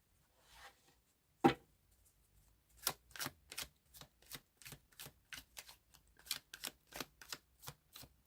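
Tarot cards being shuffled make a series of soft, close riffling bursts in a fairly regular rhythm, faint and with no talk, after one sharper tap.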